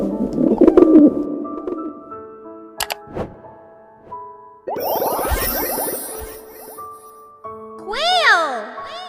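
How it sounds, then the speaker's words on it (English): Pigeon coos come in among children's voices, chiming tones and other bird calls, heard as soft, rounded, repeated notes in a busy mix. "Pigeon!"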